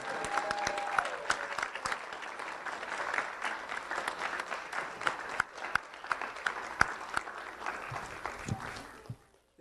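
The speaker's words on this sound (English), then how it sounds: "let's give our students one big final standing ovation" An audience giving students a standing ovation, sustained crowd applause with dense rapid clapping that continues evenly and then fades out at the end.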